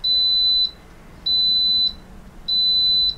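Instant Pot pressure cooker sounding three long, high electronic beeps at an even pace, each lasting over half a second, bright and piercing over a low kitchen background hum.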